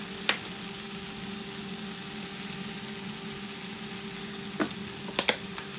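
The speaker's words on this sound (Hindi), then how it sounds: "बस इसको हमने दोनों साइड से गोल्डन फ्राई कर लेना।" Tandoori salmon fillet frying in oil in a pan gives a steady hiss, with a few sharp ticks and clicks from the pan or utensil near the end.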